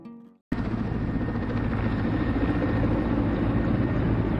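A Russian Ka-52 two-seat combat helicopter, its loud steady rotor and turbine roar starting abruptly and then holding close and continuous.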